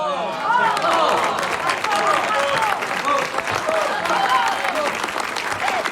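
Loud, sustained audience applause with crowd chatter and voices mixed in, dense clapping continuing steadily from start to end.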